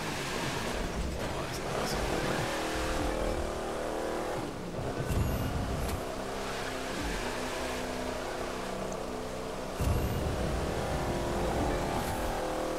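A car driving in the racing game The Crew 2, a steady engine drone with road and wind noise running throughout, fairly loud, with a couple of louder surges along the way.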